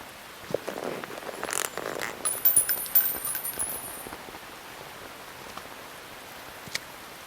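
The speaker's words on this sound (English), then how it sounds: "You can entertain me until the rain stops." Rain falling in the video game Metal Gear Solid 3, a soft steady hiss with a busier burst of droplet patter and small taps in the first few seconds, then a quieter drizzle.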